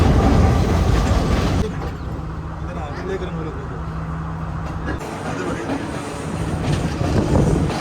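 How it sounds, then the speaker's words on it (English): A passenger train runs through Sri Lanka's upcountry mountains, its carriage giving a steady rumbling roll with faint rail clatter, louder at the start and end and softer in the middle. "that's why they made this train ride around the mountains"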